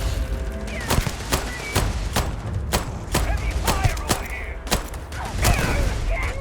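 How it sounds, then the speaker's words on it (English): Heavy gunfire from the video game Starfield: repeated sharp shots crack out at irregular intervals over a busy combat background, some in quick bursts, with thuds and mechanical clatter mixed in. "Heavy fire over here."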